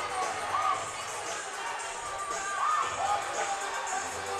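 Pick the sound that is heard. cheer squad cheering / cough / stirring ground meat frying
cheer squad cheering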